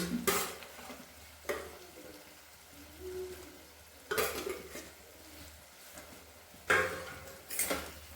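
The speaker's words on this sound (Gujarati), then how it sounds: "હવે આપણે તેની અંદર કોફતા એડ કરી દઈશું." Lauki (bottle gourd) koftas go into a pan of simmering restaurant-style Punjabi gravy, with a few separate bursts of clattering stirring and soft bubbling sizzle between quieter stretches, close and fairly faint.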